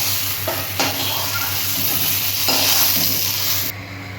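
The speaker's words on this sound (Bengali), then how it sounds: "বেগুনগুলো এক পিস করে ভাজা হয়ে গেছে, আর এক পিস আমি ভেজে নিচ্ছি ঢাকা দিয়ে" Eggplant pieces frying in hot oil in a covered pan, a loud steady sizzle close by with a couple of brief stirring scrapes, then the sound drops slightly near the end.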